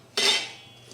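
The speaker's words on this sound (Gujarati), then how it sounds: "તો આપણે જે મરચાં ઢાંકીને રાખેલા છે તેને આપણે એકવાર હલાવી લઈશું." A spoon scrapes once through chillies in a metal pot during pickle making, a short bright clink and scrape followed by quiet.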